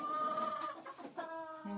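Hens clucking and murmuring close by, a continuous chatter of several birds with short rising calls.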